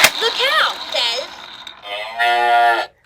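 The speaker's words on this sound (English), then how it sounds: "What sound does the cow make?" A toy farm animal sound player gives out a recorded cow moo, heard up close and loud as a warbling, voice-like call that rises and then holds a long sustained tone before cutting off abruptly.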